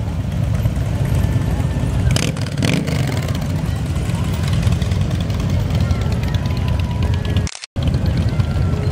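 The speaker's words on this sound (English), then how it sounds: "It's an enormous amount of motorcycles show up to this ride." A large crowd of motorcycles riding together on a charity toy run, their engines forming a loud, continuous roar close by, with a brief dropout near the end.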